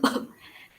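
A single short cough, close and fairly soft, trailing off into quiet.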